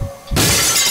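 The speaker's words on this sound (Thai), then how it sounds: "กระจกแตกครับ" Glass shatters loudly and suddenly in the horror video game Nightmare House 2, a sharp burst of breaking glass that fills the rest of the moment at close range.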